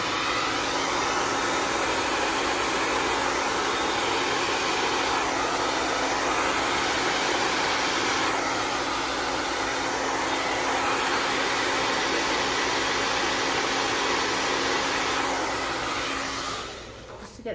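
A hair dryer blows steadily on wet fluid-art paint poured over a dark base, a loud continuous whooshing roar with a faint hum that runs without pause and cuts off at the very end.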